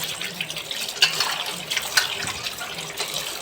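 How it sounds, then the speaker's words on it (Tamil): Water runs steadily from a tap with splashing and sloshing as fish is rinsed underneath, a continuous close wash with small irregular bursts. "நல்லா ஒரு ரெண்டு தடவை தண்ணி விட்டு கழுவுங்க"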